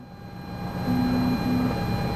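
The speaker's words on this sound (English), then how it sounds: "That's the sound of running into the torque limiter." Simulated helicopter engine and rotor drone in Microsoft Flight Simulator 2024 on a CowanSim S76C as it hits the torque limiter, a steady mechanical hum that grows louder and carries a sustained warning-like tone midway, with no talk.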